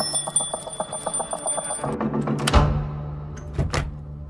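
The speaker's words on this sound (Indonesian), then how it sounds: "lonceng parameter berbunyi" A perimeter alarm bell around a house in a short action film rings in a rapid metallic series, then clanks and thuds follow with a few final bell strikes, loud and close.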